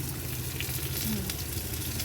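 Chopped onion sizzling as it fries in a pan with lightly fried potato, for a home-style magur fish curry; a steady, close, continuous crackle with no talk.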